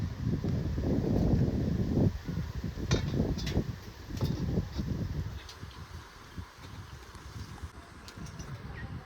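Wind gusts buffet the microphone near an outdoor cooking fire, a rough low rumble that swells and eases in waves, heavier at first and then settling.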